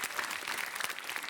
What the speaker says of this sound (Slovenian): danes drugouvrščeni pa vseeno velik aplavz za veliko borbo